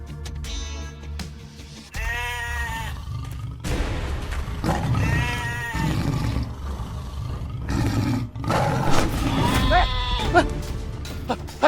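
A goat bleats in loud, wavering cries in three or four bursts, mixed with rough growls and shouting voices in a village scene where a tiger attacks the animal.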